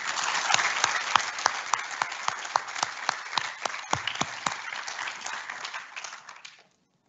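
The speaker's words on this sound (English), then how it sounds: "Please acknowledge our Year 6 students with a round of applause." Audience applause for Year 6 students at a Lutheran college commencement service, a steady dense round of clapping from a crowd that carries on for several seconds and then stops.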